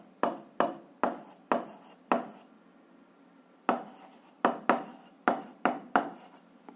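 Pen writing on paper while working an algebra exercise, a series of short, distinct scratchy strokes in two rhythmic bursts with a pause between, close and clear with no talking.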